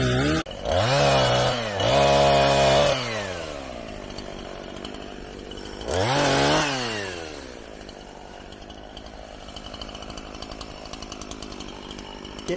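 Chainsaw cutting fallen wood after a Michigan ice storm, loud bursts of high revving separated by lower idling, with several rises and falls in pitch as the blade bites and eases off, heard up close.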